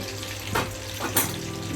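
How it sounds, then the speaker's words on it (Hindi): Spicy prawns fry in a pan with a soft, steady sizzle and a couple of brief stirring or scraping accents, heard close and alone without talk. "तो चलिए इसी तरह हम पूरे सब फ्राई करके ले लेते हैं।"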